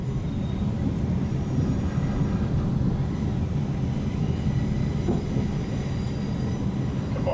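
Southwestern Railway Class 444 electric train on the Portsmouth Direct line to Portsmouth Harbour, heard from on board as a steady, loud rumble of wheels and motors that runs without a break.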